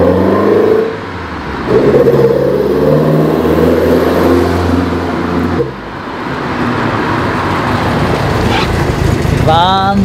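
A 1974 Alfa Romeo GT Junior passes by, its engine note swelling and fading as it goes, loud over steady road noise, with some talk in the background.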